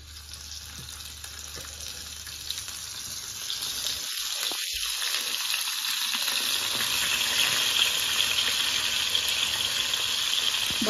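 Hilsa fish pieces frying in a hot frying pan give a steady, loud broadband sizzle that swells from about four seconds on as they are laid in, with a few brief low clunks from the pan.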